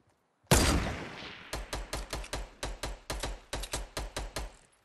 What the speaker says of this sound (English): why are they shooting at him?